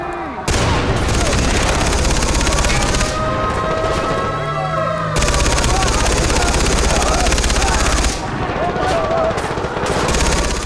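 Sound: helicopters and gunfire in video game Far Cry 3

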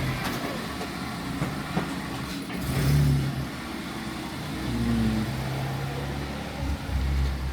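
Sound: car driving out and accelerating

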